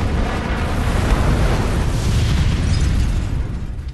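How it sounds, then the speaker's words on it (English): A large explosion from the 2008 film The Dark Knight, a loud sustained roaring blast with deep rumbling low end that holds steady for several seconds before easing off, with no voices. "the explosion that kills Rachel,"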